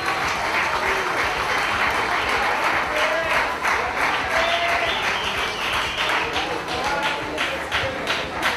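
A crowd gives a big round of applause as a volleyball player is introduced: loud, continuous clapping filling a hall, with some cheering voices and faint tonal sounds mixed in.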